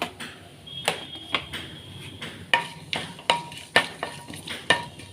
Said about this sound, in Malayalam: എന്നിട്ട് അതൊന്ന് ഇളക്കി കൊടുക്കുക ജീരകം കരിഞ്ഞൊന്നും പിടിക്കരുത്